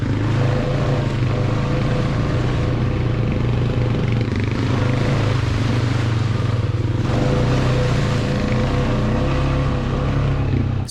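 An ATV four-wheeler engine drones loudly and continuously on a night trail ride, a dense steady rumble with slight shifts in pitch as the throttle varies, with no talk.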